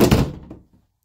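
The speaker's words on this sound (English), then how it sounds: "Seal, thanks for leaving the door open." A door slams shut with one loud, close thunk and a short fading rattle, heard alone.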